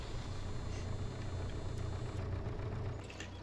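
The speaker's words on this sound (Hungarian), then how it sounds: "mindjárt mutatom itt a motornak a hangját." An MTZ 80.1 tractor engine idling in Farming Simulator 22, a steady low diesel rumble with a constant hum, close and continuous throughout.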